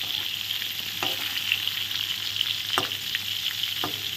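Pieces of pointed gourd (potol) fry steadily in hot oil, a continuous close sizzle with a few soft clicks of stirring, no voices.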